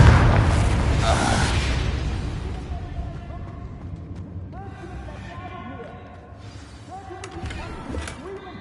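A Confringo blasting curse goes off in Hogwarts Legacy, a loud burst at the start that rumbles and fades over a couple of seconds, followed by quieter game sounds, chimes and a voice talking.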